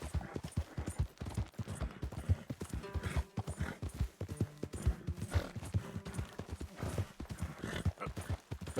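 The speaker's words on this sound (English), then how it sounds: "Tá acalmando o cavalo" A horse gallops in Red Dead Redemption 2, its rapid, rhythmic hoofbeats clip-clopping steadily and close throughout.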